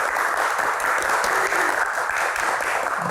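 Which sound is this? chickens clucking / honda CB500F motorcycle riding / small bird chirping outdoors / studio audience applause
studio audience applause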